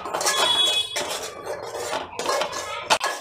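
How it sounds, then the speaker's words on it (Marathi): Malvani masala paste is sautéed in oil in a pan for a clam sukka. A metal spoon scrapes and clinks steadily against the pan, close and fairly loud, with sizzling underneath and no talking. "आधी हे वाटण आपण व्यवस्थित तेलात परतून घेऊ"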